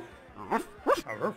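A voice imitates a dog barking while playing The Secret of Monkey Island, giving a couple of short woofs with brief gaps between them, close and clear.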